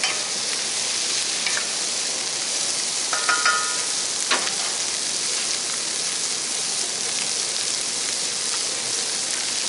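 Food sizzles steadily in a hot pan while being stirred, with a continuous crackling fry and a few brief clinks and scrapes of the utensil against the pan, with no talk.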